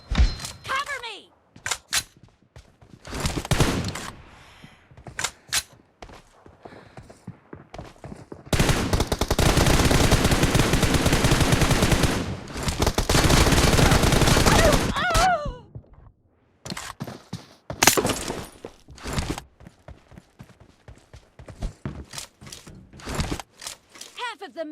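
Gunfire in the mobile battle-royale game PUBG Mobile during a one-on-one M4 match: loud repeated shots and a long sustained automatic burst, with sharp single cracks before and after.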